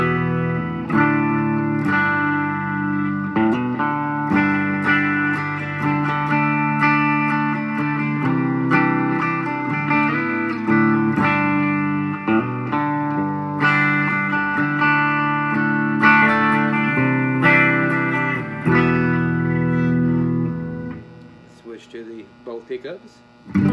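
An LTD Viper 500-S electric guitar plays clean tones through a Boss DD7 set for modulation and a noise suppressor. Sustained chords and melodic notes ring steadily and loud, thinning to sparse notes at the end.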